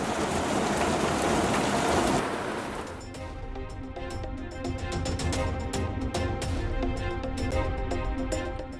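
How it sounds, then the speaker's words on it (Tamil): Moderate rain falls steadily for the whole stretch. A loud, dense hiss of rain at first settles into a patter of many close drops striking surfaces, with no voices. "சுமார் 1 மணி நேரத்திற்கும் மேலாக மிதமான மழை பெய்தது"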